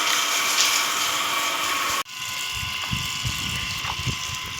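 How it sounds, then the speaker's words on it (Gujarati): Water sprays steadily onto a freshly cast concrete roof slab of a house being cured, a constant close hiss that cuts off abruptly partway through and then resumes. "હવે પાણી છાંટવાનું હાલે છે।"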